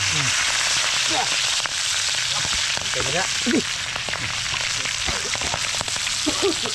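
Fish frying in hot oil, a steady broadband sizzle with crackles and pops that runs throughout, while people talk over it in the background.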